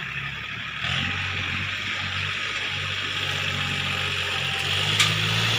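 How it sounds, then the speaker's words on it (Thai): A tractor engine runs loudly and steadily, a continuous low mechanical drone with a slight rise near the end. "ดูนะคะ รถไถจะเสียงดังนะคะ"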